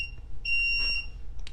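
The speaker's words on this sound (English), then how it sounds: "Alarm setting, just so you know" A home security alarm system beeps as it is being set: a steady electronic tone rises clearly over a low background hum, then cuts off, with a few short trailing chirps at the end.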